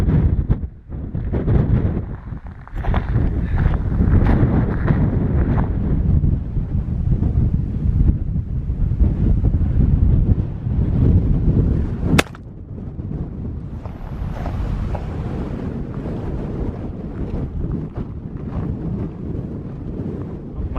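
Strong wind roars across an open volcanic crater viewpoint near a spatter cone trail, a loud, continuous buffeting that drops to a lower steady rush partway through.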